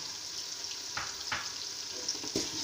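Green chillies dropped into masala frying in a pan give a steady sizzle, with a few sharp stirring scrapes and clicks, fairly faint and close, without talk.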